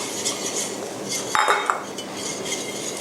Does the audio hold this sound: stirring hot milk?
yes